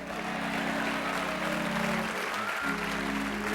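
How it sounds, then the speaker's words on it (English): An audience in a church claps steadily and loudly throughout, a dense wash of applause with a low sustained tone running underneath and briefly dropping out near the end. "while your hands are clapping"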